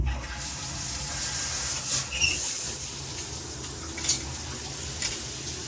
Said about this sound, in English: let me get the shower going.